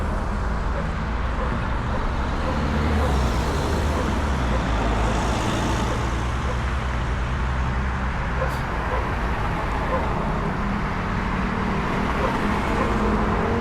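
Street traffic at a road crossing in the Czech Republic, with a steady, dense roar of cars and heavier vehicles passing close by, continuous and loud with no talk audible.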